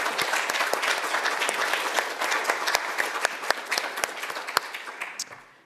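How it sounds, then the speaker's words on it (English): An audience at an informational meeting breaks into sustained applause, dense clapping with a few sharp individual claps standing out, fading away toward the end. "So can I get a round of applause for our fine folks?"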